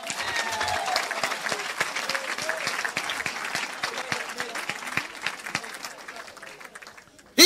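A church congregation applauds, a dense sustained clapping from many hands that stays strong for several seconds, then thins out, with a few voices and shouts mixed in.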